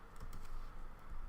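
Someone types a Linux command on a computer keyboard, a few soft, faint key taps over a quiet room hum.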